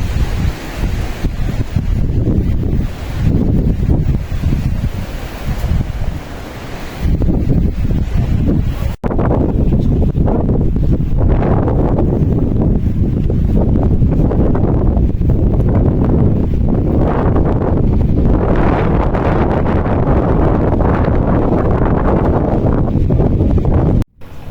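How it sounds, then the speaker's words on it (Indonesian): Strong, gusting wind roars across a steep, dusty trail on Mount Merbabu during a storm, loud and continuous with surging bursts and one brief drop partway through, no voices. "Debu lebih banyak di sini, dan angin tidak mau kalah hebat."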